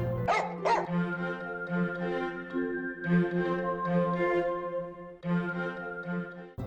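A dog barks repeatedly at close range, sharp yips mixed with whimpering and whining between the barks, with no talk.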